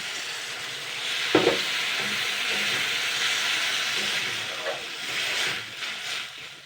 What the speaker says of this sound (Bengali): এইবার আমি কিন্তু এখানে 1 কাপ জল দিয়ে দিচ্ছি।